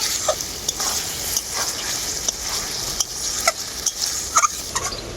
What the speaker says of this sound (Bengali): এখন এর মধ্যে দিয়ে দেবো ভেজে রাখা ঝিঙে ঝিঙেটা দিয়ে আমি অল্প একটু কষিয়ে নেব